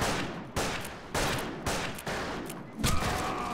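Repeated heavy gunshots from the first-person shooter NeoTokyo, five or six loud sharp blasts about half a second apart, close and forceful, with a faint tone ringing near the end.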